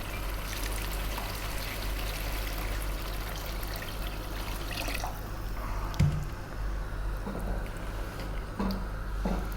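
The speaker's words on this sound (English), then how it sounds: "we're going to be adding 6 cups of water" Cold water pours steadily into a pot of rice, a continuous splashing trickle that runs throughout, with a brief knock of the pot partway through and a low hum in the background.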